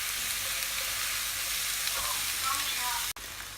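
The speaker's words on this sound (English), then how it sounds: "stir fry this until the onion and the capsicum and the zucchini are nice and soft" Onion, capsicum and zucchini stir-fry over high heat for beef in black bean sauce, a dense continuous sizzle close to the pan with light stirring scrapes and a brief clack near the end.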